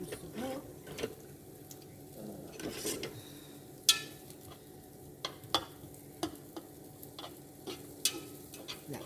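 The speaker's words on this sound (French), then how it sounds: "Là, ça mijote bien." Gentle bubbling and crackling from a pan simmering on low heat, with soft irregular pops and a faint clink or two, no talking.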